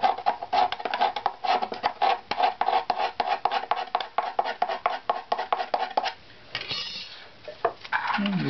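Sandpaper rubs across a wooden instrument back plate in quick regular rasping strokes, close and loud, about twenty passes in a steady rhythm before a brief softer smoothing sweep and a final stroke.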